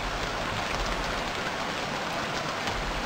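Rain falls steadily in the survival game Stranded Deep, a dense, even hiss of pattering drops that stays constant and fairly loud, with no voices.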